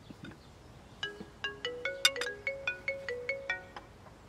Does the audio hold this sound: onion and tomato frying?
no